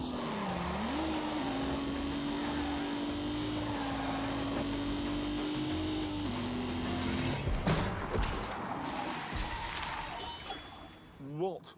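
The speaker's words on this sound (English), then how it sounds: "What was that noise? Whole car's vibrating." Car driving at speed with a heavy vibration, a loud steady engine drone and tire roar with a sustained whining tone, then a sudden jolt and rattling as the noise shifts; voices talk over it.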